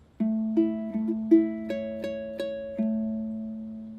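Fingerstyle ukulele picking one bar of a song, a string of about eight clear plucked notes in steady rhythm over a ringing low note, close and alone with no talk.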